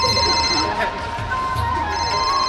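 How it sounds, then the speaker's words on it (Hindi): A telephone rings with a steady electronic trill, fairly loud and continuous, while murmuring voices and room noise sit underneath. "फोन उठा लो, काफी देर से बज रहा है"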